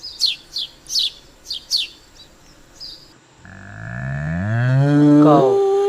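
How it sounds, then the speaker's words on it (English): After several sharp bird chirps, a cow lets out one long, loud, rising moo that swells close up and fills the last few seconds. "Cow."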